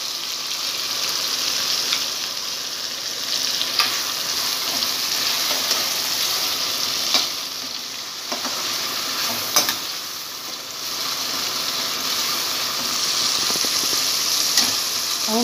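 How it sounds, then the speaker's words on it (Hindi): Chopped green chilies fry over medium heat and are stirred, a steady close sizzle broken by occasional sharp scraping clicks of the spoon against the pan. "अब हम डालेंगे कटी हुई हरी मिर्च। हम इसको हल्का हल्का भूनेंगे।"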